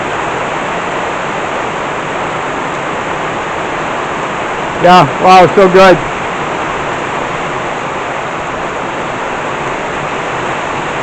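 Rainwater runs down steadily during a thunderstorm in Burgos, a dense constant rushing hiss, close and loud throughout, with a person briefly speaking over it midway.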